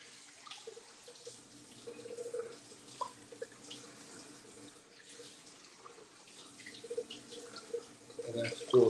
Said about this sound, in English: All right, so I added about 4 cups of water